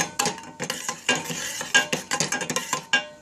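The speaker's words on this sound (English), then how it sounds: "Put coconut milk in a pot. And keep stir until it's bubbling." Coconut milk being stirred in a pot on the stove: a spoon scrapes and knocks against the pot in quick, irregular strokes, close and fairly quiet, with soft liquid sloshing between strokes and no talking.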